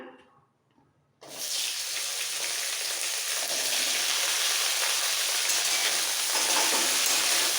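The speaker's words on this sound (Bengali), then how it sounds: "এবার এই আলু ভাজার তেলেই ঢ্যাঁড়সগুলো দিয়ে দেবো" Okra is dropped into hot oil left over from frying potatoes, starting with a sudden loud sizzle after a second of quiet and then a steady, bright, close hiss of frying that keeps going to the end.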